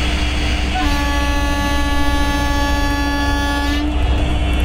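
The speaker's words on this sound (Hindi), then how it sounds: "चलिए हॉर्न बजा के अब डिपार्ट करते हैं यहाँ से।" A WAG-12 electric locomotive in a train simulator sounds a long, steady, loud horn blast of about three seconds over a constant rumbling engine drone as it prepares to depart.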